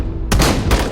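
Gunfire from the film 'The Witch', shot in a real corridor at Daejin University, with two loud, close bursts ringing and echoing sharply off the hallway walls.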